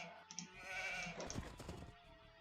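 Sheep bleat in the Age of Empires 2 strategy game, a soft wavering in-game bleat amid quiet game sound effects and clicks, faint and without talking.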